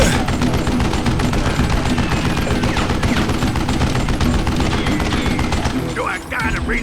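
Gunfire in the Western shooter game Call of Juarez Gunslinger, a dense, continuous barrage of rapid shots lasting throughout, loud and close, with a brief lull near the end.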